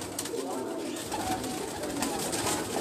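Pigeons of a bald-headed breed on a rooftop, cooing softly in repeated low murmurs amid a busy, noisy outdoor background.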